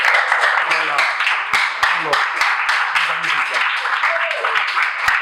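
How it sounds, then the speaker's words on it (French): Audience applause at a school event, a steady dense wash of clapping running the whole stretch with a few sharper slaps standing out and voices mixed in underneath. "on applaudit pour les deux"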